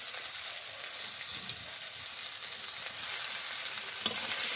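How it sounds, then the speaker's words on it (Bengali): Prawns rubbed with salt and turmeric fry in hot oil with potatoes, a dense, steady sizzle that swells slightly toward the end, broken by a single sharp clink, with no talking. "এই নুন হলুদ মাখিয়ে চিংড়ি মাছগুলোকে এবারে ওই তেলের মধ্যেই দিয়ে দিচ্ছি"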